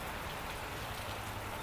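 Steady rain falls and patters on surfaces in a soft, even hiss, faint and uninterrupted, with no voices.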